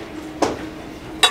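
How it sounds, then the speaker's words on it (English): Thrift-store glassware clinks twice as pieces are handled and looked through, two short bright chinks close by with a quiet room in between. "I'm looking through the glassware."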